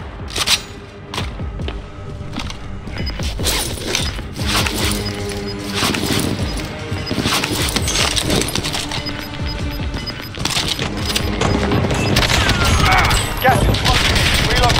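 Dense gunfire in Call of Duty Warzone: rapid bursts and repeated shots with thuds and impacts, loud and continuous throughout.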